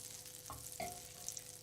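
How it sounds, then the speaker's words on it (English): Quiet, soft sizzle of butter and olive oil in a frying pan at medium heat, with a brief stir or scrape partway through. "can you hear that sizzling?"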